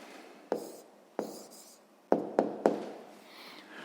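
A pen writes an answer to a sixth-grade maths exercise, faint scratchy strokes punctuated by several sharp taps of the pen on paper, close and quiet with no talking.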